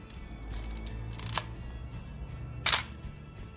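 Two crisp mechanical shutter clicks from a Topcon Unirex 35mm SLR film camera with a metal shutter curtain, from around 1965-70, spaced about a second apart, close and sharp against a quiet background.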